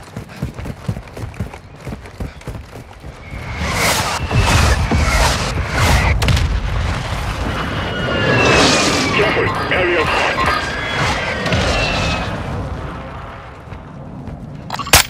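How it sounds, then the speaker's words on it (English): Mortar strike explosions in Call of Duty: Modern Warfare II, a sustained run of loud, heavy booms and crashes rolling on for several seconds amid scattered gunfire and battlefield clatter. "Our mortar strike is inbound."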